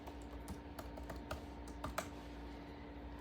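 Keys tapped on a computer keyboard in a quiet room, a handful of soft irregular clicks at close range over a low steady hum.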